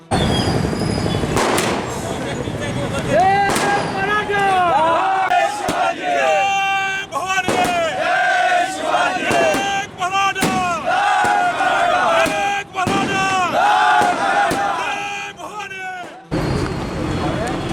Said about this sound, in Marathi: कार्यकर्त्यांनी जोरदार घोषणाबाजी करत मराठा समाजाला आरक्षण मिळाल्याबाबत जल्लोष केला